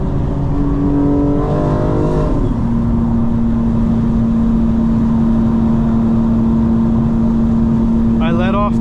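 Tuned 900hp 2025 BMW M4 Competition xDrive accelerating hard, engine note climbing in pitch, then a gear shift with a steady drone and another rising rev near the end, loud and close from inside the car.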